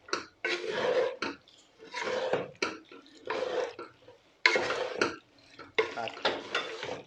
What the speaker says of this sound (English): Mix the sauce in.